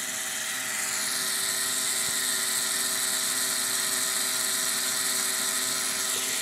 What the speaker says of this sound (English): Now you can only see the XL motor going.